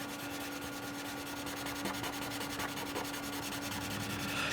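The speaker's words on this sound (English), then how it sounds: "You can really hear me scraping and blending here." Charcoal scraping and blending across paper, a steady dry rasping rub that runs continuously at close range with a few slightly stronger strokes near the middle, no voices.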